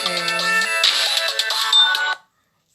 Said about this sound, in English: and now my phone is gonna ring